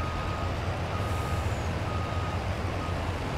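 A truck reversing in Farming Simulator 22, with steady evenly spaced reversing beeps over a low diesel engine rumble, moderately loud and continuous, no talking.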